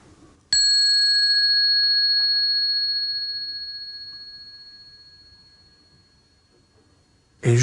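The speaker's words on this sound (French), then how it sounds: "J'ai pris un tout petit gong" A tiny gong is struck once and rings with a clear sustained metallic tone that slowly fades over several seconds before another sharp hit at the end.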